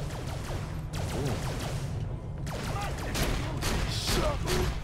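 Dense, continuous gunfire rattles through a battle in Borderlands: The Pre-Sequel, with rapid overlapping shots and impacts over a busy game soundscape.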